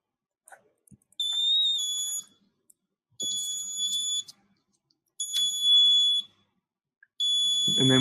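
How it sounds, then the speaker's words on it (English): An electronic buzzer on a Seeed sensor board sounds in four separate shrill, steady tones, each lasting about a second and spaced by short silences, loud and close. "And you should hear it beeping in a second."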